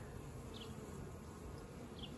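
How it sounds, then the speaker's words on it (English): A swarm of honeybees buzzing, a soft continuous drone with a few brief louder passes of individual bees nearby, faint and without any talk. "we tend to be afraid of swarms of bees"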